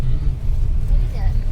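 An auto rickshaw drives past on a road, a low engine rumble heard under nearby talking.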